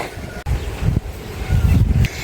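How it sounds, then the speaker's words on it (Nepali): Evening wind blows in gusty bursts at a rural village, rumbling and buffeting close against the microphone, with no talking. "अनि यो हावा नि कति चलेको यो साँझको बेलामा"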